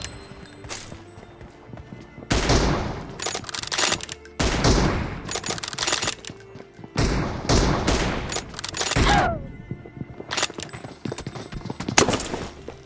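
Bursts of M24 sniper rifle fire and battle noise from PUBG Mobile, loud sharp cracks clustered in several separate volleys across the stretch, with quieter gaps of game ambience in between.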